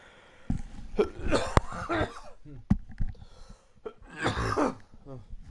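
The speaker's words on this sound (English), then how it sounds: "Cough is still bothering me a tiny bit." Several harsh coughs come in short bursts, close and moderately loud, separated by brief pauses.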